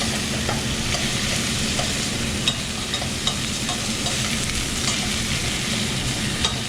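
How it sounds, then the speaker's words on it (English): Chicken thighs searing in a hot pan give off a loud, steady, close sizzle that fills the whole stretch, with faint stirring clicks and no voices. "I wanna get a good sear on the thighs"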